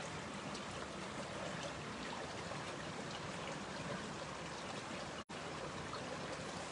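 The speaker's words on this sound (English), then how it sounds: "It's really letting down the rain now." Heavy rain pours down in a steady, dense hiss over a flooding port area, with rushing water beneath it. The sound runs unbroken apart from one brief dropout and has no voices.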